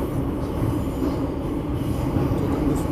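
Steady rumble of a subway train heading to Incheon, heard from inside a car with continuous wheel and rail noise, moderately loud and even throughout, no voices.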